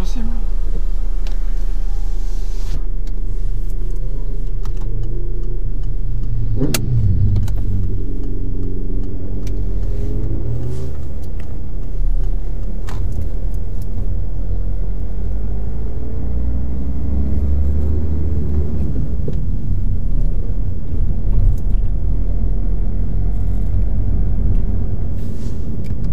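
During a French practice driving test, a car's engine starts with a sharp click and then rumbles steadily as the vehicle pulls away, with low revving swells beneath an instructor's ongoing speech.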